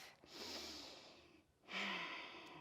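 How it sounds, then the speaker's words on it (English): Two slow, audible breaths taken while holding a yoga hamstring stretch, each a long airy exhale, the second louder and closer, with no talking. "Let's stay here for 2 more breaths"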